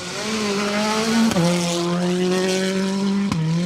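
A Hyundai i20 rally car on a gravel stage roars past with a high, sustained engine note, shifting gears twice with sharp breaks in the tone, its front bumper and wing damaged with loose carbon fibre.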